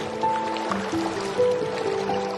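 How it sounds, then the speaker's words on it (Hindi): Water gushes and fills a boat holed on a large rock as it sinks in deep water, a steady liquid filling and gurgling with a few drips, with musical tones running underneath. "नाव में पानी भरने लगा और नाव डूबने लगी।"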